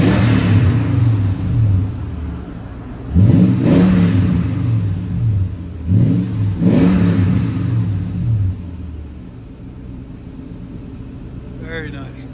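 A 2003 Toyota Tundra pickup with its 4.7L V8 and Borla ProXS exhaust, muffler and tailpipe cut off, idles then revs sharply twice, each blip rising and falling back to a deep rumble close by.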